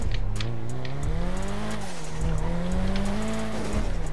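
A car in the GTA RP video game revs hard and accelerates while its tires squeal and skid, a loud continuous engine drone with rising and falling pitch.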